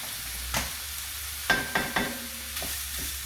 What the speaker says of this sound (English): While that's happening, I'm going to fry my beef.